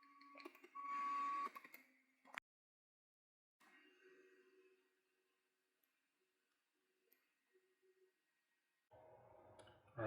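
An Ender 3 Max Neo 3D printer homing, quiet motor whirs and buzzing moves in separate bursts with small clicks and long pauses between them.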